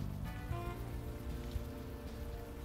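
Rain pours steadily in the video game Unavowed, a soft continuous patter under a faint low musical hum, with no talk.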